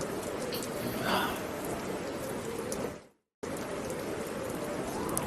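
Steady rain falls across the whole stretch, a dense even hiss that cuts out briefly near the middle before resuming, with a faint voice underneath at the start.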